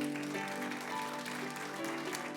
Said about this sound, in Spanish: Denles aplauso fuerte a Cristo porque Él es bueno.